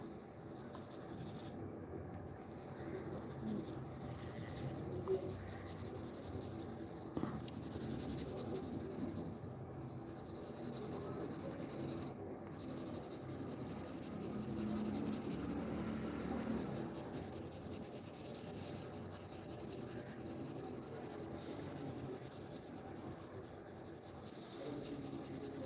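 An HB pencil shades a drawing's background with steady, continuous scratchy strokes, close and moderately loud, running without break for the whole stretch.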